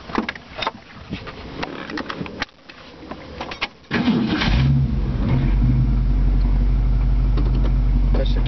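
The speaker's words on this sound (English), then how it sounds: "Touch the key, it fires right up." A 1966 Ford Mustang convertible engine cranks and catches, then settles into a loud, steady idle rumble after some earlier clatter and handling noises.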